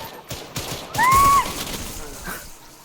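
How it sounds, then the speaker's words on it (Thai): Gunfire in a Roblox zombie game comes as a few short bursts of shots, with an electronic tone rising over them, while players talk over the action. "อ้อมโดนฐานไทยยิงตายอ่ะ"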